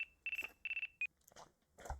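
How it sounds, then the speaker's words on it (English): A phone rings in Ace Attorney: Dual Destinies with two short bursts of a bright electronic trill, followed by a brief tone and some soft rustling and muffled game sounds. "Pardon me, looks like I have a phone call."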